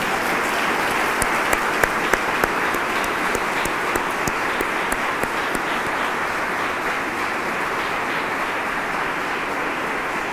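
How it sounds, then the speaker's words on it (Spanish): A crowd applauds steadily throughout at a Passover celebration, dense clapping from many hands with a few sharper claps standing out early, no voices on top. "Ahora sí podemos aplaudir."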